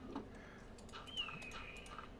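Indoors, a pet bird gives a few faint, short chirps and a thin whistled note against a quiet room hum, with soft ticking and small rustles around it.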